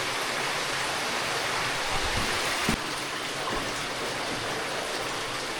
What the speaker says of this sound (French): On est vraiment dans une rivière souterraine.